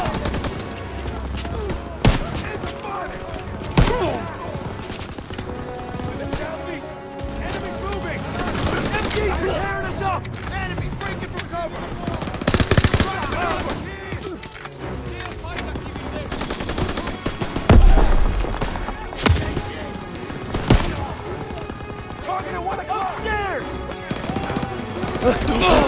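Machine gun fire in the World War II shooter Call of Duty WWII during the Operation Cobra mission, sustained rapid bursts and scattered gunshots in dense battle noise, with shouted voices over the fighting.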